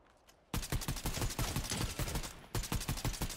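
Rapid bursts of gunfire from the video game Fortnite start after a short quiet lead-in, then pound on loud and close in dense repeated volleys with a brief pause near the end, and no talk over them.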